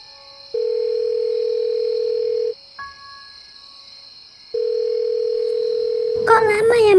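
An animated telephone call rings unanswered, two long steady tones separated by a pause, loud and close, before a voice begins talking at the end.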